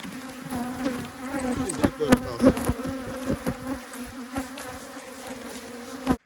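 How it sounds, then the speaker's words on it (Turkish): Honeybees buzz steadily at an open, disturbed hive during a colony transfer, a dense constant hum with sharp flyby swells from individual bees passing close. "Arılarımızı heyecanlandırdık. Hep böyle yavruları heyecanlandırdık."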